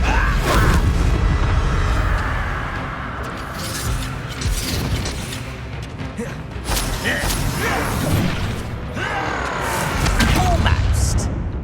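Confringo fire spell blasts rumble through a Hogwarts Legacy combat scene, dense booming impacts, whooshes and crashes layered loudly with game effects, with voices shouting in the mix.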